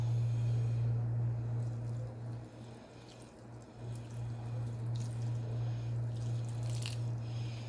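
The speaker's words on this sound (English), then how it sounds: "Now we're going to stir in that half a cup of beef broth." Beef broth poured into a meatloaf mixture in a home kitchen, a soft continuous liquid trickle and drip close by over a steady low hum, with no talk.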